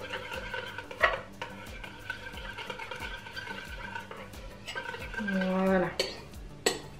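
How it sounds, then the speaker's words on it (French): Utensil stirring melted butter in a pan so the last small pieces melt, with repeated scraping and light metallic clinks against the pan, a couple of sharper knocks and a faint sizzle, close and moderately loud. "je vais mélanger pour que les derniers petits morceaux fondent"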